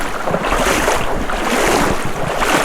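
Rough Class 4 rapids in a hidden California creek roar with a dense, continuous rush of churning water, loud and close throughout with no voices.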